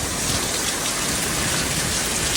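Heavy rain and hail pour down during a November storm in Phoenix, Arizona, a dense, even roar of drops striking surfaces, loud and unbroken throughout.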